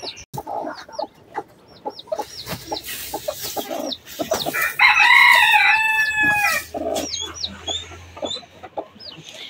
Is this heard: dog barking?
no